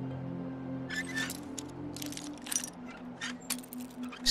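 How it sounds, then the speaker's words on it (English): Lockpicks snap and click in a door lock inside the Fallout 4 video game, a few sharp metallic clinks and jangles spread across several seconds over a steady low game hum. "Snapping picks in their door."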